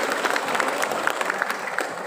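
Audience applause at a millennial gathering in Jatitujuh, Majalengka, West Java, a steady patter of many hands clapping together, moderately loud and even throughout.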